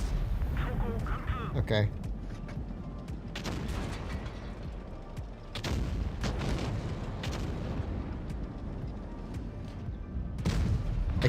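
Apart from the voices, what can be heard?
tank firing high explosive shells in WoT Blitz video game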